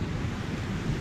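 Ocean surf and wind at a sandy seashore make a steady, broad rushing roar, close and fairly loud throughout, with no voices.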